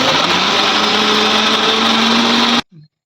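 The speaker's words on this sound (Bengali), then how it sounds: "এবার দেখো মিক্সারটা" Electric mixer grinder whirring loudly while grinding spices, a steady high motor drone that stops abruptly near the end, followed by a brief faint rattle.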